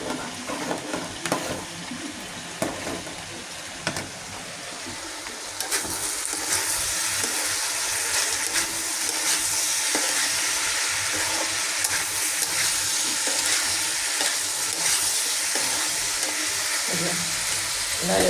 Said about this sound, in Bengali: নাড়িয়ে দিলাম করলা ভাজিটা।